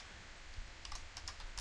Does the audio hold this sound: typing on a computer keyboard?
yes